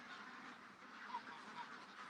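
Ducks quacking at night during feeding, a few short calls rising faintly out of a steady hiss of outdoor background noise, fairly distant and soft.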